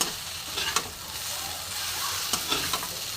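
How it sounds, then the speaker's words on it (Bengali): Vegetable scraps stirred and fried in a pan: a steady, close sizzle with brief scraping strokes from the spatula, no voices. "তো দেখো, আমি নাড়াচাড়া করে নিয়েছি সুন্দর করে।"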